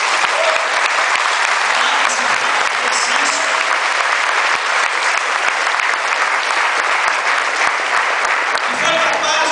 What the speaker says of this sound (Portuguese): Gostaria que você aplaudisse isso.